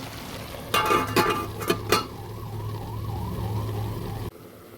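A lid is set on a pot of bottle gourd greens, stalks and potatoes cooking in mustard paste, giving a few sharp metallic clatters over a steady sizzle and low hum that carries on afterward.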